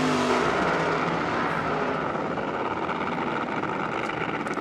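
A nitromethane-fuelled drag racer running at the Goodwood Festival of Speed, a loud, dense, harsh engine roar held steady throughout, close and unbroken with no voices.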